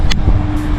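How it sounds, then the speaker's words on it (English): A Dodge Scat Pack with a 392 / 5.7 Hemi V8 idles nearby, a loud low rumble under wind buffeting on the microphone, with a brief clatter near the start. "so I currently have a car started running"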